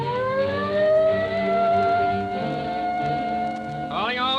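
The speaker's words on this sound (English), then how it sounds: "There's the police car." A wailing police car siren from an old-time radio comedy drama rises and holds a long, steady tone, with a sharp upward sweep near the end, sounding close and loud over faint background.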